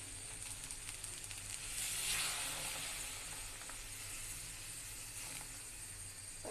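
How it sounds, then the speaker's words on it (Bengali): Hot water poured into cooking dal, a soft steady sizzle and hiss that swells briefly then settles into a faint continuous simmer, quiet and without voices. "আমি এখানে গরম পানি দিয়ে দিব।"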